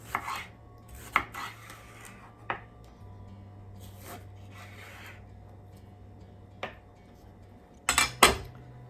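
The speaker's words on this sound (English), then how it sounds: "Once you cut it in half, go ahead and cut your strips." A kitchen knife slicing a bell pepper into strips on a cutting board for a gluten-free Philly cheesesteak casserole, giving a few scattered sharp knocks and scrapes spread over the stretch, ending in a quick cluster of cuts, with a low steady hum beneath.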